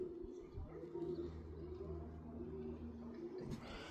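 Pigeons coo softly in a low, throaty, repeated rhythm, faint and fairly close in a quiet outdoor loft setting, with some muffled background noise.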